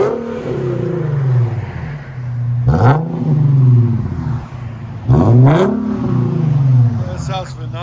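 Loud, close exhaust of a 2015 Infiniti Q50 AWD 3.7L V6 with dual exhaust and muffler delete: a deep burbling idle broken by two sharp revs that swell and fade, with people talking over the engine.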